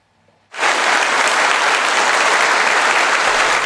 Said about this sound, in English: Flowers and applause as Japan's longest-serving leader leaves his office as Prime Minister for the last time.